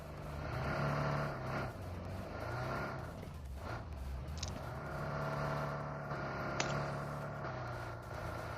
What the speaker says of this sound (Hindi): यहाँ पर 2 गाड़ी और आ गई।